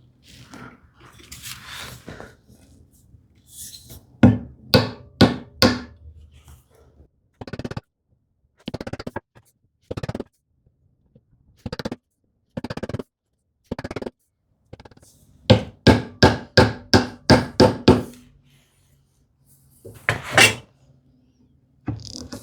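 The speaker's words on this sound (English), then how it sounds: "I will trim the shoulders of this tenon here." Hand tools trimming the shoulders of a wooden tenon in a woodworking build, a series of sharp, separate cuts and taps, some in quick bursts of five or six, with quiet gaps between.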